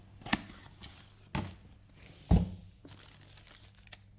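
Cardboard box of a Forx XAD 120.8 eight-channel car amplifier being opened: a few sharp crinkling, tearing and thumping handling noises spaced over several seconds, close by and moderately loud, with no talking.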